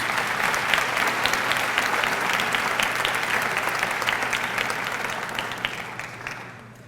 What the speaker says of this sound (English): Another round of applause for our 25-year recipients.